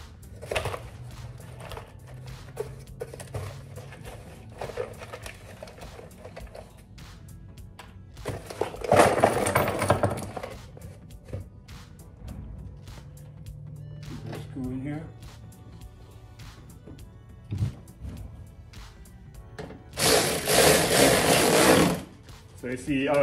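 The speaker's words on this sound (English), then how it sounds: "go ahead and catch a screw in here so it doesn't move" Power screwdriver driving a screw into the rear bumper of a BMW F30, with two short loud whirring bursts, around nine and twenty seconds, between stretches of someone talking and handling noise.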